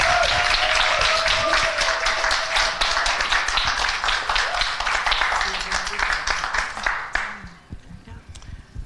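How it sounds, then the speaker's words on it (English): An audience claps to welcome someone speaker onto a stage; dense, loud applause with individual sharp claps audible, thinning out and stopping near the end. "If you'd all give her a huge round of applause and welcome."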